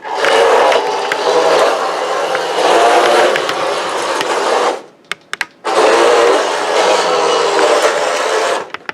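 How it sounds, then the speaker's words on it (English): Robot drive motors whir loudly and continuously while the robot turns in reverse, cutting out briefly with a few clicks before resuming at full strength. "As you can see, the motor on the left side, it basically stops."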